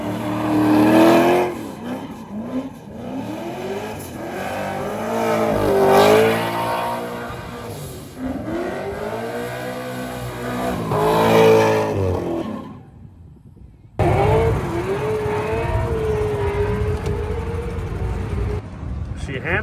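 A race car engine revs loudly in a burnout box at LS Fest Texas, rising and falling in long roaring pulses, cutting out briefly, then returning as a sustained high-revving drone, with people talking over it.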